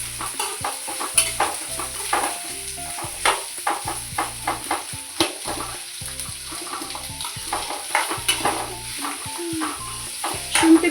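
Ginger and garlic frying for a village-style chicken curry, with a steady close sizzle under repeated scraping stir strokes against the pan throughout.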